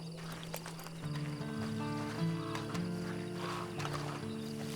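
Horse in the Red Dead Online game, with a few soft hoof clops and a snort over a steady droning musical score; the hooves sit faint and intermittent beneath the sustained tones.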